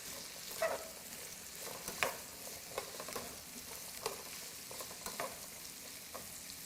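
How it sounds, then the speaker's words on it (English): Garbanzo beans and garlic sautéing in a pan, a soft steady sizzle broken by periodic stirring scrapes roughly once a second, close and quiet with no talking. "We're just going to allow this to saute some more."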